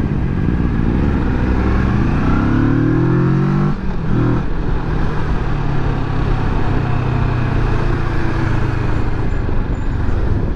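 A Honda CBR motorcycle engine drones loudly and steadily nearby, its pitch rising through a rev before dropping sharply, then settling into a lower sustained rumble as it passes.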